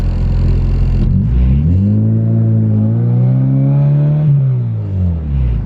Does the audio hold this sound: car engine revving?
yes